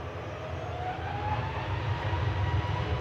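A Ryanair Boeing 737 Max 8 departs Manchester Airport on a wet day, its engines a low, steady rumble that slowly swells in loudness from a distance, with no voices.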